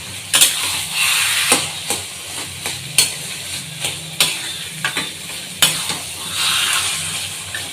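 Taro leaf curry being stirred in a pan, with repeated sharp scrapes and clacks of a spoon against the metal over a soft, steady sizzle, close and fairly loud.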